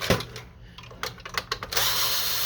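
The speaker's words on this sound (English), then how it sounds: "let's see if we can remove more screws" Screws being backed out of an Epson WorkForce WF-2630 inkjet printer during disassembly: a quick run of short, close whirring bursts, then a steadier mechanical hiss, with no talking.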